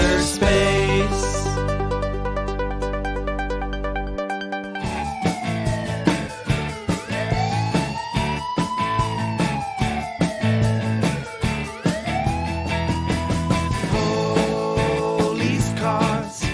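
Wailing police car siren tones rise and fall repeatedly over a bouncy children's song backing, the siren woven into the music.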